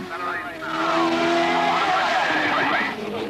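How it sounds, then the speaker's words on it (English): A Theodore Formula One car skids and squeals its tires on a tight track scattered with sand at the 1981 Dubai Grand Prix, the engine note swooping loudly for a few seconds while a voice speaks over it. "Then it was the turn of 2 Formula One cars, starting with the Theodore, to have a go at a flying lap record"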